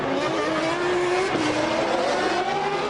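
Formula 1 cars from the 1998 season racing into the casino hairpin at Monaco, a loud, continuous high engine whine with shifting pitch as the cars brake and accelerate nearby.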